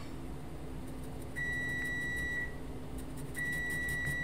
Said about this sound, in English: That's my timer to keep me focused.